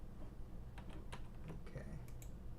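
Faint keystrokes tap on a computer keyboard in a loose, irregular run of clicks over a low steady room hum, quiet and close.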